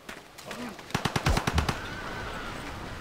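A unit fires in the strategy game Civilization 5, a rapid burst of sharp gunshots crackling for under a second over quiet game ambience, then fading into a low hum.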